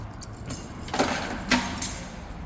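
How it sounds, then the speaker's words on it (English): Keys jangling near a CF Moto 650MT 2022 motorcycle, a few short metallic rattles close by against low background hum. "Put the keys in."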